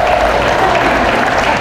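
Many members of a church congregation in Cupang, Muntinlupa clap at once, making a brief, continuous burst of crowd applause that stays full and level with no pauses.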